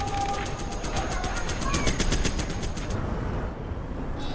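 Rapid chain gun bursts rattle loudly in Command & Conquer Zero Hour, an evenly spaced stream of shots over a busy real-time strategy battle backdrop, stopping abruptly near the end.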